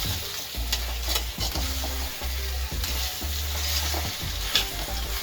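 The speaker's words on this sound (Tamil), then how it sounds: "இப்போ வெங்காயம் தக்காளி எல்லாம் நண்டோடு நல்லா மிக்ஸ் பண்ணி விட்டுடலாம்." Crab with onion and tomato is stirred in a frying pan: a loud, close sizzle with repeated spoon scrapes and knocks against the metal, plus bursts of low rumble between the stirring strokes, and no one talking.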